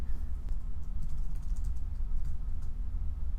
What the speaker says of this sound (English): I guess I'll just peck at the keyboard since it seems to be easier.